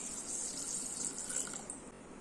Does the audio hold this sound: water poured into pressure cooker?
yes